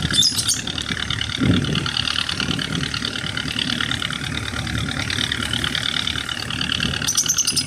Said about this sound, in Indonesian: sayup-sayup kita dengar ada suara mesin kapal. Nah, itu penyedotan pasir kayaknya nih.